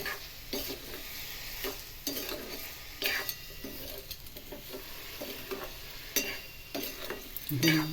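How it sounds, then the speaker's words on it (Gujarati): Spoon stirring green grape juice and sugar in a pan over low gas, with repeated soft scraping strokes and a faint sizzle throughout, close and steady. "ધીમા ગેસ પર ધીમે ધીમે હલાવતા જઈએ."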